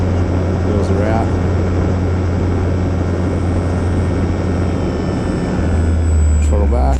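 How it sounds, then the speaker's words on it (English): An RC T-28 Trojan model airplane flying low with the throttle pulled back, a steady droning engine hum held close and loud, with faint voices over it. "Right rudder, trying to line it up, feeding that throttle back, and then just slow the plane down."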